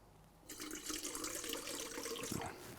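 White wine poured into bokit dough in a kitchen, a steady liquid splash and trickle lasting a couple of seconds after a brief quiet start, close and moderately loud with no talking.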